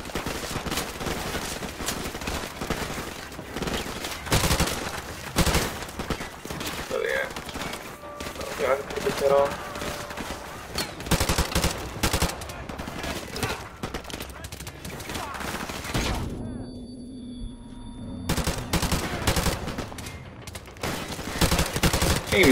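Bursts of rapid gunfire and single shots in Modern Warfare Remastered, loud and near, repeated throughout with a brief lull, while someone talks over the shooting.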